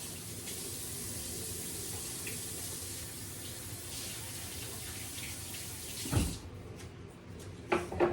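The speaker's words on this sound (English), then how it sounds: "Let me wash my hands." Water runs steadily from a kitchen sink tap as hands are washed, a continuous close hiss lasting several seconds before cutting off, followed by a few brief knocks and clatters.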